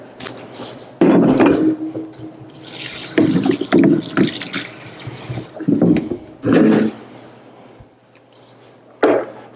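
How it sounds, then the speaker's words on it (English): Cool tap water runs and splashes onto lettuce in a salad spinner in bursts, loud and close, with brief pauses and dripping between pours. "we're going to get a little cool water in there"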